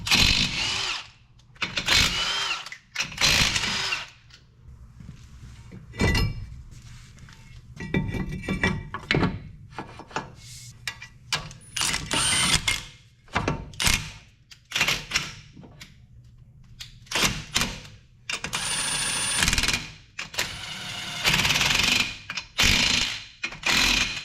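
A power tool working on a brake caliper during rotor replacement, loud repeated bursts of mechanical whirring and ratcheting separated by short pauses, close up.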